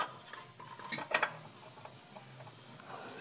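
A new oil filter with an oiled O-ring is threaded by hand onto a 2010 Toyota Tacoma 2.7L, giving a few faint metallic clicks and scrapes with a brief cluster of clinks in the middle.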